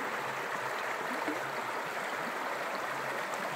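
Steady, even rush of the Middle Fork John Day River flowing past a dispersed campsite in Oregon's Malheur National Forest, a continuous close water sound with no talk over it.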